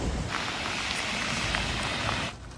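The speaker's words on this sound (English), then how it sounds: "it's raining like mad." Heavy rain pours steadily at an electric vehicle charging station, a dense, unbroken hiss of drops drumming on surfaces close by, easing slightly at the very end.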